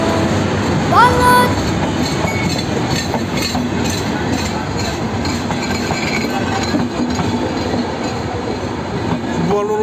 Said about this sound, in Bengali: বনলতা ট্রেনটি এখন সেতু পশ্চিম থেকে ছেড়ে যাচ্ছে ঢাকার উদ্দেশ্যে।